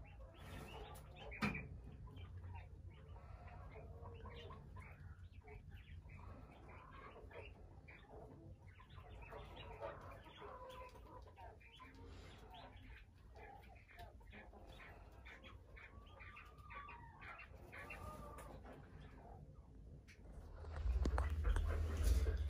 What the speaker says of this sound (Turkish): Evet arkadaşlar, bıldırcınlarımız burada.